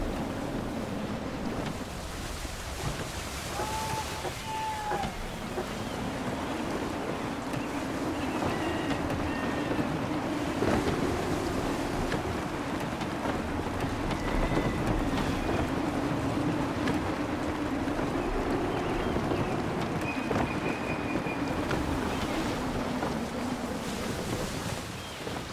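Gusty wind and surf wash steadily around a sailing ship at sea in Assassin's Creed III, a constant roar with wind buffeting the microphone and faint tonal creaks or calls now and then.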